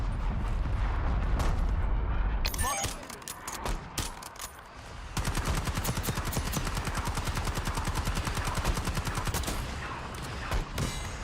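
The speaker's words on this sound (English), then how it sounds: "I'm gonna put a mortar inside them." Mortar strike and heavy gunfire in Call of Duty Warzone, with a blast burst near the start followed by a long run of rapid, loud automatic shots and explosions.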